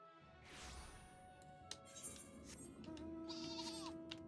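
Several sheep bleat over a busy game soundscape, with faint thumps and a brief crash in the mix.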